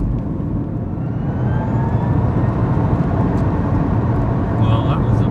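Tesla Roadster electric car accelerating hard in performance mode, a loud steady rush of road and wind noise with a faint rising motor whine inside the cabin.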